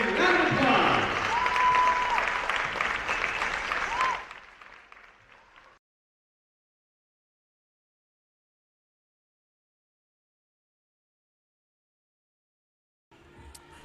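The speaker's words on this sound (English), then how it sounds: "Round of applause." Crowd applause at a women's college basketball game between Saint Martin's and Seattle Pacific, loud and sustained for about four seconds, then fading quickly into silence.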